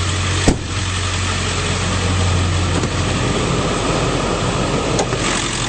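A 7.3L diesel V8 in a 2001 Ford F-250 Super Duty with a K&N cold air intake idles steadily and smoothly at close range, a continuous even rumble with no talking.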